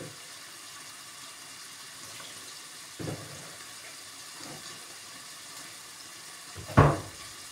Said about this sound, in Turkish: Bir sıcak su açayım ben de.